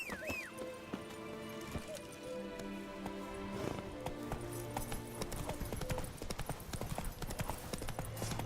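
Horse hooves clip-clop at a steady trotting pace in The Witcher 3, moderately close, layered over game music with tonal notes and a brief snort.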